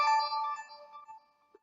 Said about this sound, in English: that's just a notification from my phone